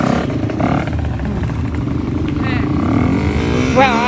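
A dirt bike engine revs and clatters steadily throughout during a riding practice session, fairly close, with some rises in pitch near the end and no voices over it.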